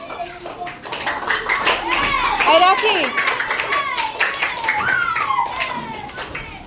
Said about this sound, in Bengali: আয় ওদের দুজনের জন্য হাততালি দাও।